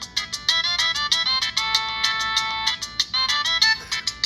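Ringtone playing from a Virgin Mobile phone, a bright, repeating electronic melody of quick staccato notes, loud and close, with no talking over it.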